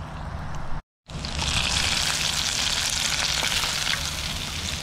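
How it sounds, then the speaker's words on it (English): Breaded fluke fillets fry in hot oil with a continuous loud, close sizzle and crackle, cut by a brief silence near the start. "let's start frying this fish."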